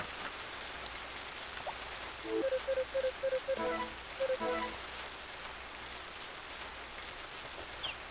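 Steady soft patter of rain in the farming video game Harvest Moon: Friends of Mineral Town, a continuous hiss running throughout with a few brief melodic game tones in the middle.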